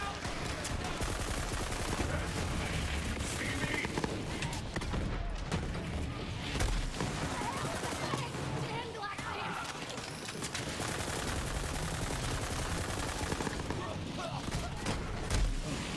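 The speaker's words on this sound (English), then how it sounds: "Just shooting the allies." Nonstop video game gunfire in Borderlands 3, dense overlapping bursts of automatic shots and booms filling the whole stretch, loud and close, with voices talking over it.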